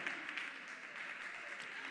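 An audience at a singing competition final applauds a finalist, a steady, moderately distant patter of many hands clapping with voices faintly mixed in.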